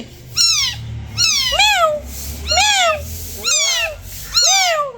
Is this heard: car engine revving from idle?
no